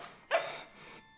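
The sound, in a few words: dog barking in film The Babadook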